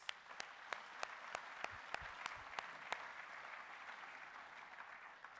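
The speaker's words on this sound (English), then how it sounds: "if you could join me in giving a round of applause to those sponsors" Conference audience giving a round of applause for event sponsors, a continuous, even patter of many hands with a few crisp, closer claps punctuating it, fairly faint overall.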